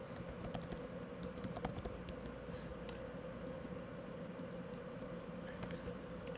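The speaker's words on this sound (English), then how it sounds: "I'm going to type in expense name." Quick, uneven typing on a computer keyboard, light key clicks in bursts close to the mic over a faint steady room hum, with no talking.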